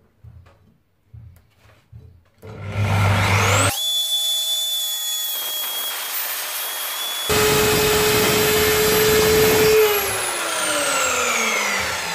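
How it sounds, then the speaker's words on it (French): A circular saw spins up to a loud sustained whine and cuts a groove into reclaimed furniture wood, pitch shifting as it cuts, then winds down at the end. "je vais creuser avec la scie circulaire toute cette partie là"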